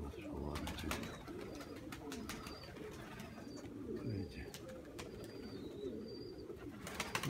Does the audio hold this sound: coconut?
no